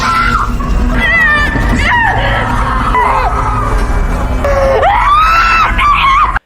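Children in a house under a black-magic curse, screaming in terror: continuous loud, wavering high-pitched shrieks and wails overlap throughout, dense and close, with no pause.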